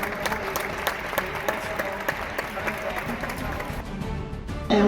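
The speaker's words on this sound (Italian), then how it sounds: "Grande applauso" Applause from an audience at a corporate anniversary event, steady broadband clapping running for several seconds with some crowd noise mixed in, and a brief louder burst at the very end.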